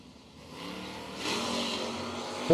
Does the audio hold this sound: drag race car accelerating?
yes